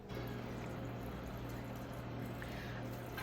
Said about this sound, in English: you're gonna fill this with water